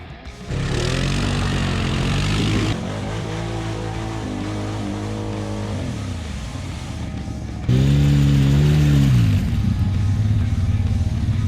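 An ATV stuck in a rut with its wheels spinning, the engine droning steadily and then revving louder in a sustained burst near the end, with no talk.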